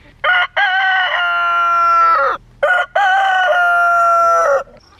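Two loud, close rooster crows in a row, each a long drawn-out harmonic call, with no talk, from chickens in a yard picking around the grass for bugs.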